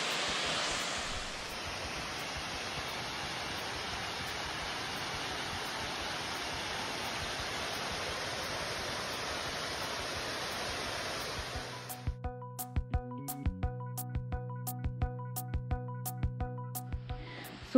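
Wei Sawdong waterfall in Cherrapunji roars as a steady, dense wash of falling water for about twelve seconds, then cuts to quieter sounds with a series of sharp clicks and tonal beeps, with no speech.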